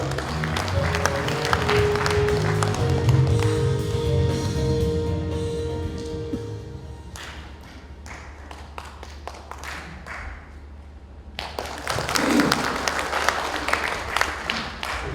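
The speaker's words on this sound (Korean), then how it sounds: "박수로 모시겠습니다." A lecture audience applauds to welcome a speaker, a dense burst of clapping that thins into scattered individual claps, then swells again briefly near the end under background hum.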